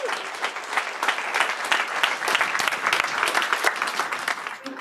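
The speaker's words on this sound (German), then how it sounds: "Euer Applaus." Audience applause at the closing presentation of a youth hackathon, a steady, dense clapping from a crowd that holds even throughout without letting up.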